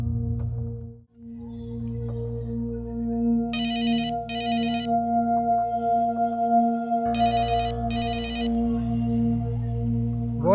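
A telephone rings in two pairs of bright electronic bursts, loud and close, over a steady low hum from a room in a Pakistani drama scene.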